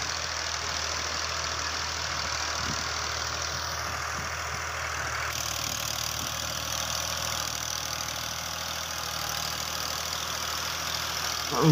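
A New Holland Fiat 480 tractor's diesel engine labouring as it pulls a cultivator plough through a field, a steady low chugging drone that runs on unbroken at moderate distance with no voices.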